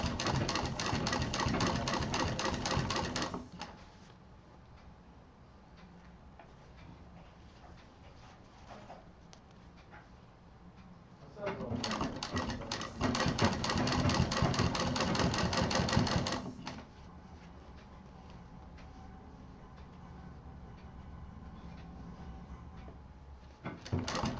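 A sewing machine stitches fur onto a baby backpack in two loud bursts of rapid, rattling stitching separated by a quieter pause, then starts up again at the end.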